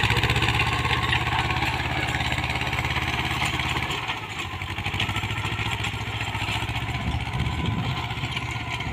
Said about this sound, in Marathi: रोटावेटर करायचं चालू आहे